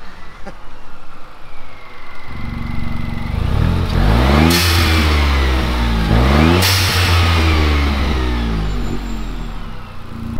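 Nissan Micra K14 with an aftermarket exhaust valve opened, revving loudly in two strong rising bursts that settle back to a rumbling idle, heard close with no talking.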